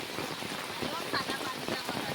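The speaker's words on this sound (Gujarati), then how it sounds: "ઘણા દાડે વરસાદ પડ્યો આવો" Rain falling after a long dry spell on farmland, a steady dense hiss of drops with a faint breezy edge, continuous and close throughout.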